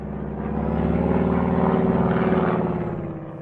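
A propeller airplane engine sound effect in an audio drama: a loud, steady droning hum that swells and then eases slightly over a few seconds, with no voices.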